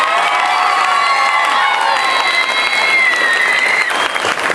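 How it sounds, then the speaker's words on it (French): Audience applause at a stage show, loud dense clapping from a large crowd with cheers and whoops rising over it throughout. "Je vous demande d'applaudir, mesdames, mesdemoiselles, messieurs, ceux sans qui cela n'aurait pas pu avoir lieu."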